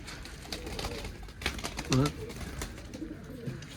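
Pigeons coo in a small coop on a snowy day, with a soft, clear coo rising near the middle amid faint rustling and low background murmur.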